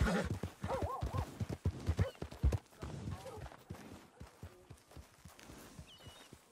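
In the Red Dead Redemption video game, a horse gives a loud whinny over rapid clip-clop hooves that slow to scattered, fainter steps, with a brief voice nearby.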